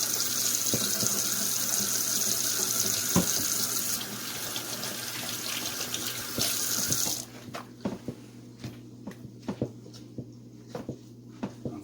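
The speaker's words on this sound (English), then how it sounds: "Unfortunately, we're going to hear the sound of the faucet." Water runs from a kitchen faucet as hands are washed, a steady close rush that cuts off partway through, followed by scattered clicks and handling sounds in a quiet room.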